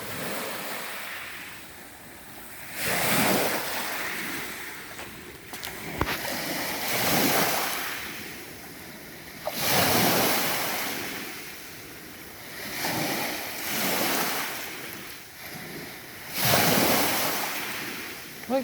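Waves washing onto a Lake Huron beach at a St. Ignace, Michigan campground, surges rolling in every few seconds with gusty wind buffeting the microphone in between.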